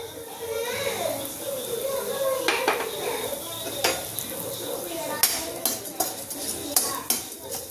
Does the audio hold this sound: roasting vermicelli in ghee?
yes